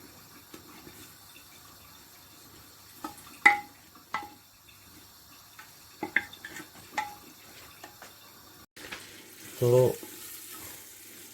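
Moong dal being fried and stirred in a pan for a restaurant-style moong dal makhani makes sparse, quiet sizzles and scattered spoon clicks, then a louder burst of sizzling near the end. A voice speaks briefly.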